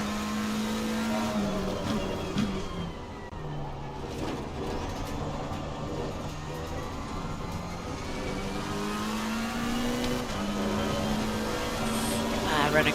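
McLaren race car engine in Assetto Corsa Competizione at Misano, a steady droning drone with rising and falling gear-change pitch sweeps as the rear end slides, continuous and close throughout.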